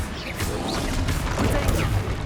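Bombarda blasting spell explosion in Hogwarts Legacy, a video game: loud crackling bursts and blasts mixed with whooshing spell effects during busy combat.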